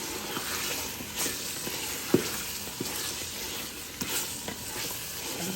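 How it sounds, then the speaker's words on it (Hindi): Turnip and beef frying in a pot give a steady close sizzle, broken by the irregular scrape and clatter of stirring, with no voices. "इसको 20 से 25 मिनट भूननी है।"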